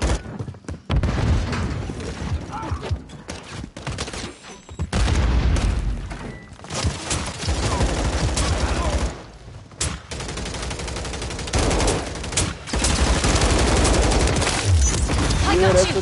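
Video game gunfire in an online shooter match: bursts of rapid shots and booming blasts through most of the stretch, loud and close, with players' voices talking over it at times.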